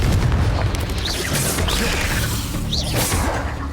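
Confringo fire spells blasting repeatedly in Hogwarts Legacy on Nintendo Switch: loud booming whooshes and crashing impacts over a dense, continuous game soundscape, with several distinct bursts spread across the moment.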